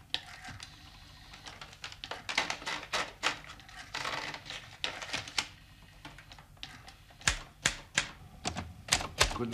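A mechanical typewriter clacks through a run of sharp, irregular keystrokes, with sparser, louder strikes toward the end; close and clear with no voices.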